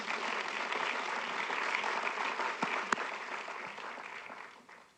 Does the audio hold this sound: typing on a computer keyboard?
no